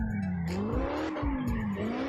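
A drift car in CarX Drift Racing holds a steady engine drone that wavers in pitch while its tires squeal and skid through a long slide, loud and continuous with no voices.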